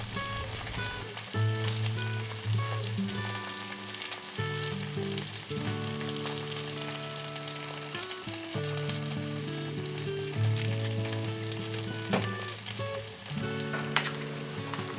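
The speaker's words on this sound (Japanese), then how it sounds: "小さめのフライパンにオリーブオイルと唐辛子、ニンニクを入れて中火で熱して、ニンニクの香りが出てきたらきのこ類を加えます。" Mushrooms sizzle and fry steadily in olive oil with chili and garlic in a small pan over medium heat, a dense continuous crackle at close range with no voices.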